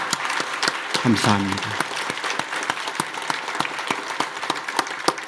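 Congregation clapping at a New Year's Eve church service, a steady patter of many hands with a brief spoken thanks over it near the start.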